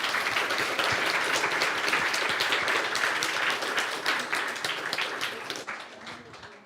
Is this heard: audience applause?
yes